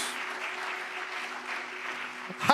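A church congregation at a Good Friday service claps for Jesus in soft, sustained applause with a low hum beneath, swelling slightly at the very end.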